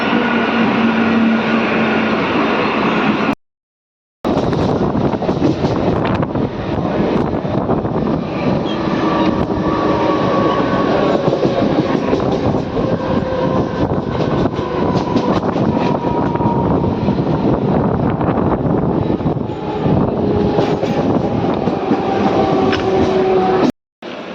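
Loud, continuous rumble and rattle from inside a moving Mumbai local train near Thane station, with rhythmic wheel clatter and wind rush filling the whole stretch apart from two brief dropouts.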